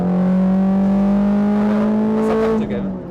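A Peugeot 206 RC hatchback revs hard under acceleration, its loud engine drone rising steadily in pitch close up from inside the car before easing off at the end.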